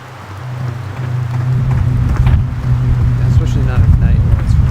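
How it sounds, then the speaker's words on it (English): Steady rain falls at night in the Blair Witch video game, a continuous hiss with a low rumble swelling in and staying loud throughout, while someone speaks over it. "Especially not at night when it's raining."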